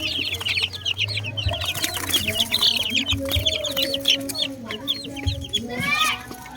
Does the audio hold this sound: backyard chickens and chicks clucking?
yes